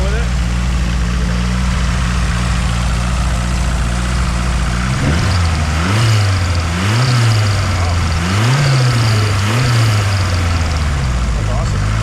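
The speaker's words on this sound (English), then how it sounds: "Go up on the throttle with it." A Nissan 240SX with a swapped SR20DET engine and a new Pathfinder alternator idles close by, then is revved several times in rising and falling pulls, with people talking over the engine.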